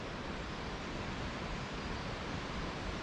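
Flowing water near a mountain trail on the Mount Jōnen day hike, a steady broad rushing wash, even and continuous with no voices.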